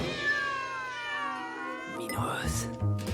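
A cat meows in a long, drawn-out, wavering cry that bends in pitch, followed by a rougher, caterwauling sound near the end, fairly close and clear against a low background hum.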